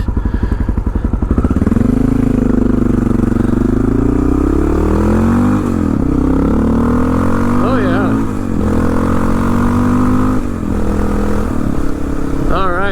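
A 2004 Honda XR650L single-cylinder motorcycle engine running while being ridden, a loud close steady drone with rhythmic thumping, pitch rising and falling through several gentle throttle changes.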